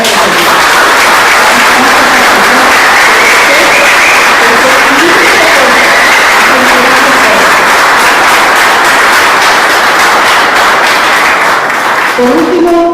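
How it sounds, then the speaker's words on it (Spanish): A church congregation applauds the Lord, a steady, loud wash of clapping that holds for the whole stretch before thinning at the very end, with some voices mixed in. "Entonces vamos a aplaudir al Señor."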